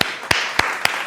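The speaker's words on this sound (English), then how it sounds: "Give me a fucking round of applause for my guy right here" Four sharp, evenly spaced hand claps ring out loud and close, each one a crisp slap followed by brief room echo.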